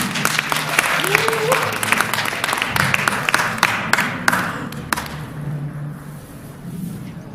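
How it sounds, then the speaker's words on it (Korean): Warm audience applause welcoming a speaker to the stage at a formal event, many hands clapping steadily for about five seconds before fading out, with some crowd murmur underneath. "등단하실 때 여러분 따뜻한 박수로 환영해 주십시오."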